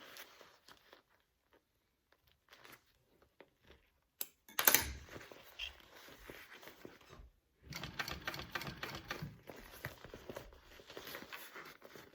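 Sewing machine stitching a Mini Swell pattern, starting with a few short taps, then running in longer rapid mechanical bursts with brief pauses, close and steady with no talking.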